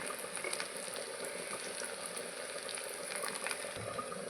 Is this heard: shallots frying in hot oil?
yes